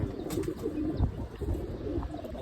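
Pigeons kept by a fancier coo in low, continuous murmurs, with a few faint chirps over a steady background hum, heard up close without talk.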